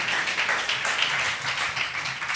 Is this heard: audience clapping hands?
yes